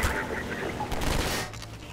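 Gunfire at a barrel in the co-op shooter Half-Life 2 Synergy, a quick rattle of shots over a noisy, rumbling game background, brief and fairly close.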